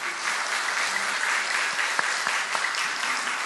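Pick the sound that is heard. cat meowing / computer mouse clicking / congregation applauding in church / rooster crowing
congregation applauding in church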